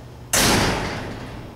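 A door shut hard in a house, one sharp slam followed by a long ringing decay, loud and close with no voices.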